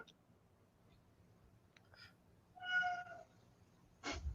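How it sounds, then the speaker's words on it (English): A cat gives a single short meow, clear but soft against a quiet room, followed by a brief rustle. "that's such a cute cat noise"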